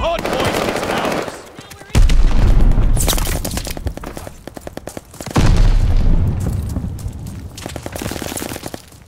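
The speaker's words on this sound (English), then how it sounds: "Throwing grenade." Battlefield combat in the Call of Duty Vanguard multiplayer game, with a grenade explosion: two loud, booming blasts ring out among rapid bursts of machine-gun fire, close and harsh, with no voices.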